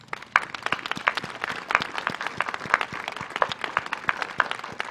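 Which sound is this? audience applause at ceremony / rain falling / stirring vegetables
audience applause at ceremony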